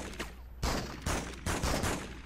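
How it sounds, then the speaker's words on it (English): Gunfire rings out in the PS2 video game Spider-Man 2 as thugs shoot at police, several loud bursts of rapid shots in quick succession with no talk. "Some thugs are shooting at the police!"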